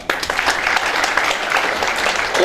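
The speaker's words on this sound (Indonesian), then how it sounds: "Berikan aplaus pada Anda." An audience at a K-Link marketing seminar in Yogyakarta claps together, a dense, loud burst of applause that holds steady for a couple of seconds.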